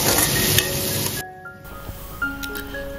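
Paneer pieces fry in hot oil in a wok. A steady hiss breaks off briefly, then returns more quietly with a few faint clinks.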